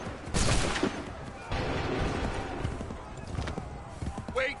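Musket volleys in the Assassin's Creed 3 video game, dense crackling gunfire bursts mixed with hoofbeats and battlefield clamor, loud and continuous with shouted orders.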